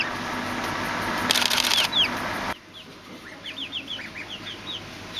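A chicken clucking beside a captive-bred cassowary chick, with a burst of wing flapping and rustling up close, then a run of short bright chirps and clucks over quieter background.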